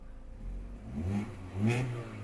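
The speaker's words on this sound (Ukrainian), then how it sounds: "Двигун працює чітко" A Volkswagen Golf V engine runs steadily nearby, its low hum rising in two brief revs before settling back to idle.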